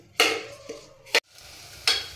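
Soaked rice for egg biryani is stirred in a pot in three quick scraping strokes, each a short close rasp separated by brief quiet pauses.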